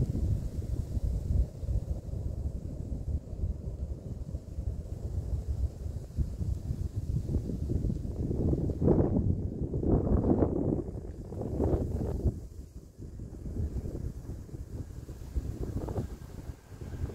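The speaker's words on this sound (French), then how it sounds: "On a un peu de vent aujourd'hui, entre 35 et 45 km/h" Strong wind of 35 to 45 km/h buffets the microphone on a hike in constant low rumbling gusts, swelling louder midway before settling back to a steady roar.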